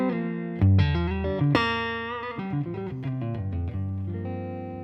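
Clean electric guitar tone from the neck pickup of a Nags guitar played into a Roland Blues Cube amp, a few sustained notes and chords ringing out loud and alone, with a sharp strummed accent early on.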